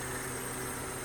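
A rebuilt Honda Civic VTi with a D16Y8 engine runs at a steady idle, a constant even hum with no talking.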